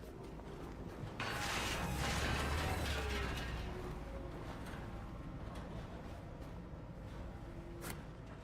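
A grinder machine in the video game The Last Caretaker chews up a wooden pallet, giving a steady mechanical grinding and creaking churn that swells loud in the first seconds and then runs on evenly.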